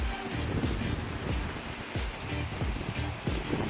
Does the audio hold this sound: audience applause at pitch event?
no